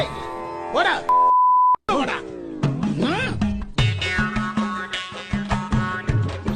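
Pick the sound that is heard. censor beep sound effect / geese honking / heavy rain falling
censor beep sound effect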